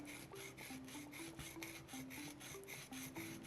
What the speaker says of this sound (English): Carving into that stone